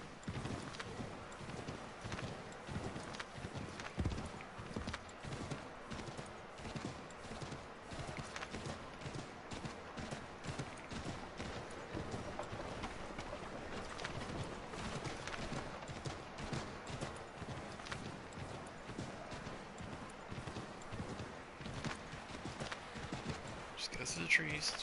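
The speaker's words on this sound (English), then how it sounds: "riding horses to get to different points" Continuous horse hoof clip-clops at a steady trotting rhythm in the video game Assassin's Creed 3 Remastered, with talking over them throughout.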